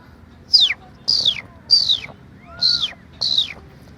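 A voice imitates sparrows chirping: five high, sharp chirps, evenly spaced, each sliding downward, over a faint low background hum.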